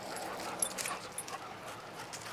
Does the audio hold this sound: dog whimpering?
yes